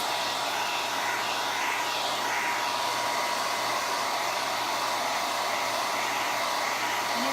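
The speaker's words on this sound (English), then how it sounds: "I'm going to run the dryer for just a second" Hair dryer running steadily, a close, loud, constant airy whoosh with a motor hum underneath, used to dry a wooden plank mason jar sign.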